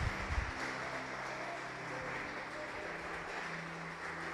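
Church congregation at an Assemblies of God service applauding, a broad steady wash of clapping that carries evenly throughout at moderate, slightly distant level.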